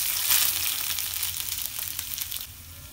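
Coconut oil heating in a hot pan gives a steady, close crackling sizzle for a few seconds, with a low background hum and no voices.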